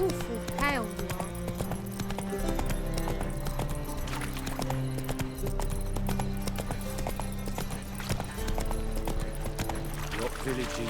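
Hooves of Roach, Geralt's horse in The Witcher 3, clip-clopping steadily on the road in rhythmic beats, with a brief whinny early on, under ongoing character dialogue.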